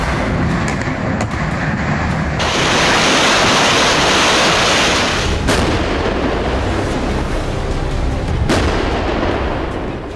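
Heavy artillery fire booms in military footage, a loud, dense roar of blasts and rumbling with sharp cracks cutting in at intervals, no talk over it.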